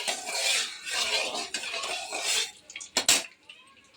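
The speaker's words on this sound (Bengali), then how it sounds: "তেলটা একটু নাড়াচাড়া করে দিই।" Oil is stirred in a cooking pan with salt and turmeric added, giving a continuous hissy sizzle with scraping for a few seconds, then a couple of sharp metallic clinks as it settles.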